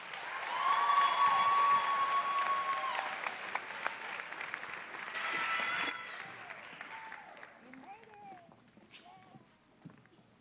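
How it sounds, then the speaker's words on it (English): An audience applauds loudly for several seconds as a startup team takes the stage at a business incubator pitch night, then the clapping thins out while faint voices and chirps linger. "give them a huge round of applause as they make their way"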